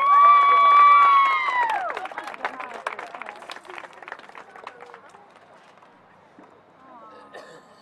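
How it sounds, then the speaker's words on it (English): A crowd at a school senior night claps and cheers, with scattered clapping and shouts following a voice over the loudspeaker, the applause thinning and fading toward the end. "we'd like to give a big round of applause"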